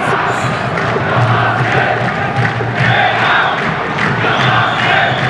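Senegalese football fans cheer in the stadium during an Egypt versus Senegal youth Arab Cup semi-final, a loud, dense, continuous crowd roar with chanting swells throughout.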